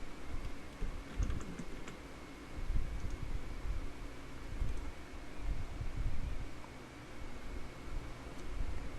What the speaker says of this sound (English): Type your Gmail username and password.